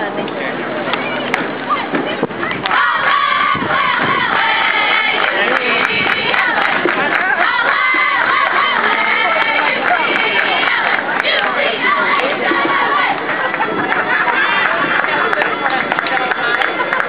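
A ballgame crowd chants a loud cheer in unison for a player named Mikey, a dense roar of many voices with rhythmic shouted calls that carries on for the whole stretch.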